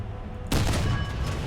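A tank cannon fires in War Thunder: one sudden, loud, close blast cuts in after near-silence and trails off into a heavy, sustained rumble.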